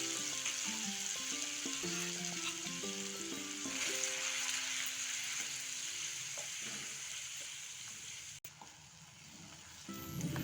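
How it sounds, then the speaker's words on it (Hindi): Onion paste with a pinch of asafoetida fries in a pan for Gujarati sev usal, giving a constant hissing sizzle with occasional stirring scrapes under gentle background music. "प्याज को हम अच्छे से भून लेंगे गोल्डन ब्राउन होने पर।"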